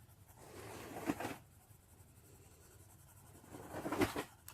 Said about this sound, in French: Au fur et à mesure, les traits de crayon s'enlèvent et les couleurs s'estompent et se mélangent.